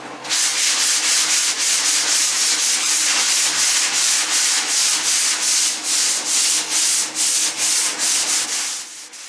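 Steady abrasive rubbing of sandpaper on wood, with rhythmic back-and-forth strokes, close and loud, continuing for several seconds without talk.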